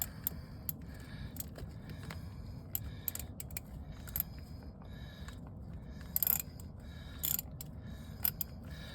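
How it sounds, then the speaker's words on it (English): A ratchet wrench tightens bolts on a Yanmar engine with faint, quick clicking bursts and occasional metallic clinks over a low background hum, the strokes coming in short irregular runs. "These bolts are moving so free. I'm just kind of working this till it snugs."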